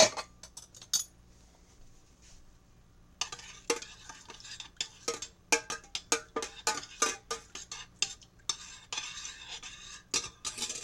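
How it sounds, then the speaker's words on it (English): A spoon scrapes and clinks against the inside of a pot in a quick, irregular rhythm of close, bright taps, with a low hum beneath. "Let me get a spoon and stir this up."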